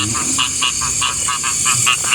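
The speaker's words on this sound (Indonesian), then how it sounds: "Suara kodok tuh." Frogs croak in a steady repeating rhythm, about four calls per second, bright and continuous against a constant high insect hum.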